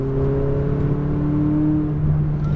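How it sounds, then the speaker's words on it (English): A McLaren 570S engine hums and whirs steadily at high revs on a race track, a continuous droning tone with no voices. "This is more of a high revving engine, isn't it?"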